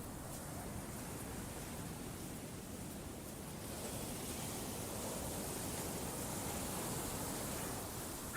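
Soothing ocean waves form a soft, continuous wash of surf, faint and even with a gentle swell midway and no distinct breaks.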